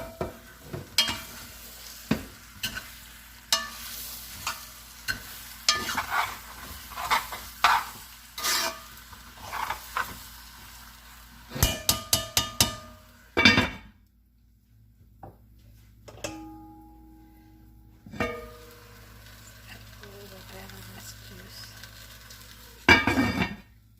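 Corned beef sears in olive oil in a pot, with a soft sizzle under repeated stirring, scraping and clinks of utensils against metal, and a few quieter gaps between bursts of clatter.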